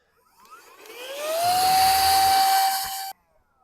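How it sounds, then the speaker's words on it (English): A vacuum cleaner sucks debris out of a routed guitar body cavity, its motor whining up in pitch to a steady high tone with broad airy hiss, holding for about two seconds before cutting off abruptly. "Let's vacuum that out."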